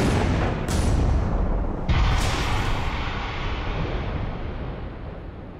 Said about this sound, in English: To prove the destructive force of our weapon, a 12-gauge shotgun, we've placed a watermelon behind each dessert panel